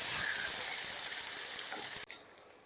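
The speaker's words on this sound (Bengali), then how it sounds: "আলুটা একটুখানি ভেজে নেব" Sliced potato strips sizzle steadily in hot oil in a pan for Bengali koi fish curry, a loud continuous frying hiss that drops away abruptly near the end.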